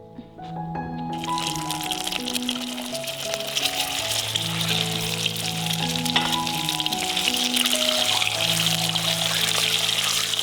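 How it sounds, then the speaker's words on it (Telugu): Eggs slit and seasoned with salt and turmeric fry in hot oil for an egg curry, giving a loud continuous close-up sizzle that starts abruptly and holds steady, with background music playing underneath. "అలాగే ఎగ్స్ని కూడా వేయించుకుందాం."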